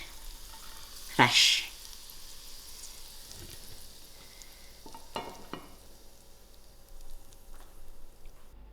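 Slightly cooled tempering oil poured onto freshly ground coconut chutney, giving a brief loud sizzling burst followed by quieter stirring and faint crackles, with a short spoken word.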